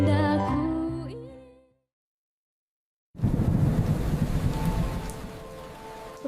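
Heavy rain pours in a dense, steady hiss with rumbling thunder underneath, loud and close, following a stretch of musical tones and a brief silence.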